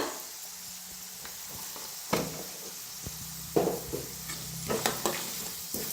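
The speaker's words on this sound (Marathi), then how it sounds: "इकडे मसाला बी आपला छान भाजायला लागलेला आहे।" Masala spices roasting in a pan, a soft continuous sizzle with a spoon stirring and scraping in several bursts, close and quiet.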